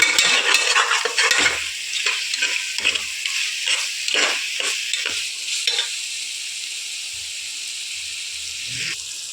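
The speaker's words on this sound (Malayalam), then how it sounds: "അതിൻ്റെ കൂടെ നമ്മളിപ്പോൾ തക്കാളി ചേർത്തു അത് നന്നായിട്ട് ഇളക്കി കൊടുക്കണം" Tomato for mushroom biryani is stirred in a sizzling pan, with rhythmic scraping and knocking strokes over a bright frying hiss that gradually quiets.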